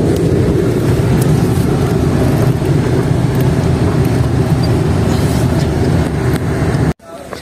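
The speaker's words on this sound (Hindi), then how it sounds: "इधर खड़ा करते हैं गाड़ी को।" A car is brought to a stop and parked at a government college in Malakwal, Pakistan, with a steady loud engine and road rumble throughout that cuts off abruptly near the end as the engine shuts off.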